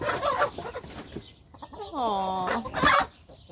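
Chickens cluck and squabble as they settle their pecking order while new hens are being integrated, with a short drawn-out call in the middle and a brief exclamation from a person.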